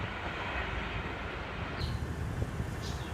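An express train rushes past on an Indian railway line, a loud continuous rumble and rattle of wagons close by, steady throughout with no voices.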